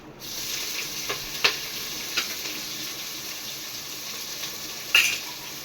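Sliced onions fry in a pan for egg biryani, a steady, fairly loud sizzle with a few light utensil clinks and scrapes scattered through it, nearby and without any voices.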